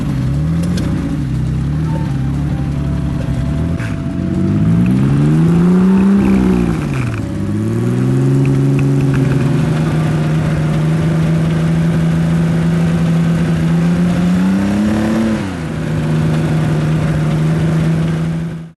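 A 2.4 liter Porsche engine at a classic car concours idles steadily and is revved up several times, its pitch rising and falling, loud and close with no talk.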